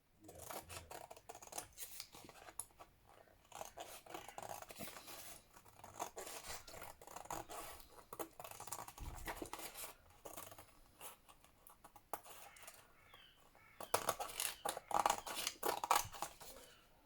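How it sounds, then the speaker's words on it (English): Scissors trim glue-coated paper while a puzzle book is assembled, giving repeated close snips and rustling cuts in bursts with brief pauses, louder toward the end. "It's because you get glue on your scissors, see?"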